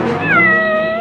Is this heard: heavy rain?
no